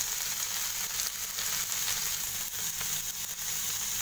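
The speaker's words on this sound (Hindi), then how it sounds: "धीमी आंच में थोड़ा सा भून लेना है 1 से 2 मिनट के लिए।" Peas and tomatoes fry in a pan over a low flame, giving a steady close sizzle with soft crackles and faint stirring scrapes throughout, and no talking.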